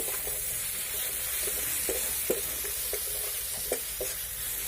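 Finely chopped capsicum and onion fry in a pan, giving a steady, close sizzle broken by a few sharp scrapes and taps from stirring.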